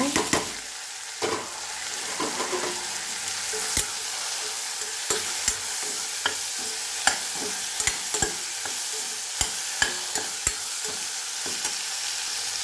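Radish and tomato sizzle in a pan of onions for kulambu, a steady close frying hiss broken by scattered light clicks and taps.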